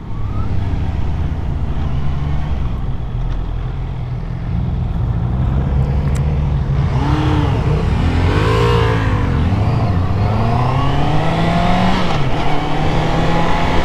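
2025 Honda CB650R motorcycle with E-Clutch riding, a loud, close engine drone that climbs and falls through several revving sweeps and gear changes over steady road and wind noise.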